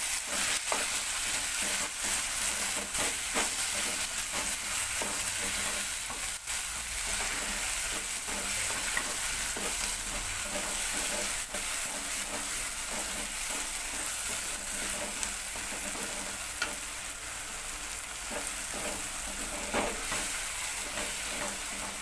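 Ground masala for an anchovy curry fries and gets stirred in a pan, a close, dense, continuous sizzle with frequent scraping and clicking from the spoon throughout.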